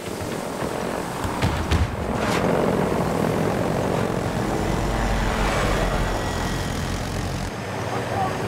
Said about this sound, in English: Drone launched.